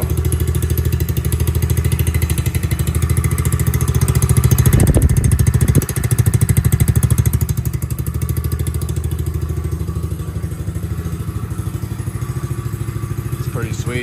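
A small X-Pro Bolt 110cc ATV engine idles steadily to warm up after a first start, a continuous low chugging drone with a brief clatter midway, close and fairly loud throughout.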